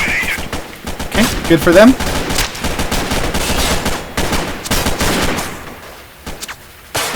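Gunfire in the Freeman: Guerrilla Warfare video game: a dense, loud background of shots and bursts runs throughout while someone talks over it.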